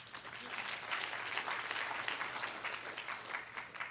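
An audience at a small convention gives a round of applause after a talk, steady dense clapping lasting several seconds at moderate volume.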